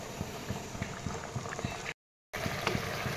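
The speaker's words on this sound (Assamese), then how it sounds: "এতিয়া উতলিব দিম এইখিনি হাই ফ্লেমত দি দিব জুইটো" Fish and taro curry boils on a high flame, bubbling and popping steadily up close, with a brief moment of silence midway.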